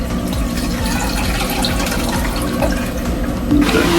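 A boat's toilet flushes aboard a sailboat after its button is pressed, a loud close rush and gurgle of water running steadily throughout.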